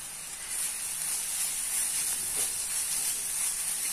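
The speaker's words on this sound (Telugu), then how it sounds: "ఇందులోనే ఈ పచ్చిమిర్చి పేస్ట్ కూడా వేసేసుకుంటున్నానండి. వేసుకుని కొంచెం ఫ్రై చేసుకుందాం." Green chili paste frying in a pan for a mushroom curry, making a continuous close sizzling hiss that swells slightly after the start and holds steady, with no voices.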